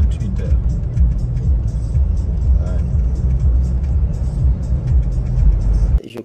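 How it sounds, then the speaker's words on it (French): A presidential car carrying Rwanda's head of state Paul Kagame rolls through a street in Conakry, a steady low motor rumble with passing traffic, heard beneath a voice talking throughout. "c'est la voiture présidentielle qui amène au palais le chef d'État rwandais Paul Kagame."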